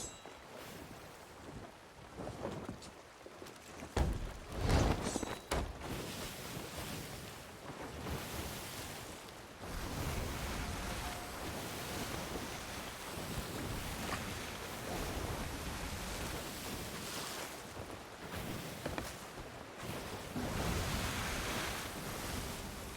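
Ocean waves wash and surge around a sailing ship in the video game Sea of Thieves, a continuous windy roar of water with a louder splash early on, heard alone without talk.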